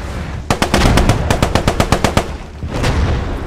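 Rapid bursts of automatic gunfire in the WWII shooter Post Scriptum, about a dozen sharp evenly spaced shots in a tight run, then a couple of more scattered shots, loud and close.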